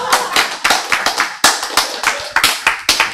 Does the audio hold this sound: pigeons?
no